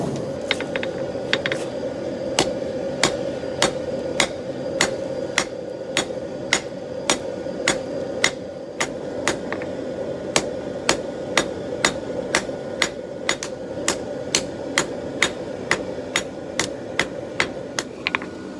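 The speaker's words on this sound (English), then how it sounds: "before I start forging in the shape of the blade, I'm just going to go at it with a straight peen" A hammer forges 5160 steel for a camp knife, striking in a steady rhythm of sharp metallic rings, roughly one or two blows a second, close and clear over a constant background roar of the forge.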